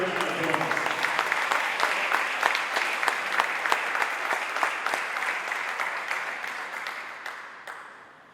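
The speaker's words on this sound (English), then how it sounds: "Let's give him a big round of applause." Rotary club members give a warm round of applause at a meeting honoring an award recipient, dense clapping with crisp individual claps close by, steady and loud before fading out at the end.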